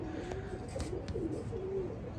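A pair of teddy pigeons, a male and a female, coo softly and steadily in a low, rolling murmur that continues throughout without pause.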